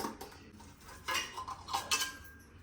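Soft clinks and scrapes of utensils against a plate as freshly made ragi mudde is portioned out, a few quiet distinct knocks close by with no talking.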